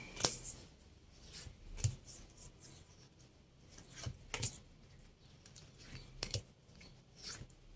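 Tarot cards are drawn one by one from a deck in a quiet room, giving soft, close sliding and snapping card sounds at irregular intervals over several seconds with hushed gaps between them.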